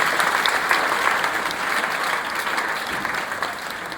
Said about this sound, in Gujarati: એનો માટે તાળી તો પડવી જોઈએ ભાઈ